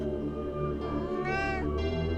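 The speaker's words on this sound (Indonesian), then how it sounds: "mereka sambil mengeong panjang" A yellow-and-black striped cat gives a long, drawn-out meow, close and clear over a steady background drone.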